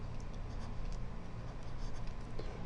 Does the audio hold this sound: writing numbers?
yes